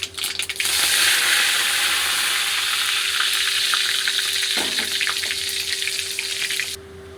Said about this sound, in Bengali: বাদামগুলোকে আমি হালকা করে ফ্রাই করে নেব